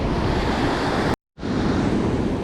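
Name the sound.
ocean waves breaking on a beach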